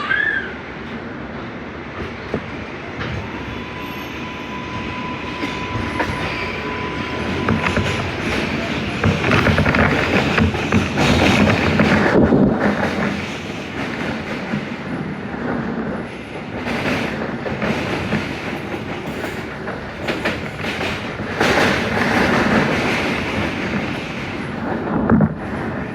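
An R142A 4 train on the New York City subway rumbles along the tracks between Brooklyn stations, a loud continuous roar of wheels and car noise with rattles and brief squeals throughout.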